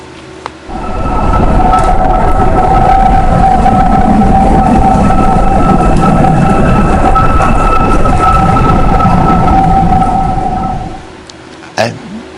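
An eerie whistling drone from the One World Trade Center tower in New York, heard on 12/5/13: two steady sustained tones hold for about ten seconds over a loud, broad wind-like rumble, with no talking.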